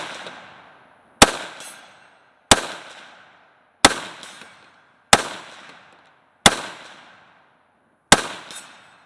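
A PSAK GF3 12.5-inch pistol fires seven loud, sharp shots at an outdoor range, spaced roughly a second or more apart, each with a ringing decay and echo afterward.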